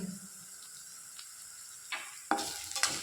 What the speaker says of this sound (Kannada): ಒಂದೇ ಒಂದು ನಿಮಿಷ ಫ್ರೈ ಮಾಡಿಕೊಂಡ್ರೆ ಸಾಕು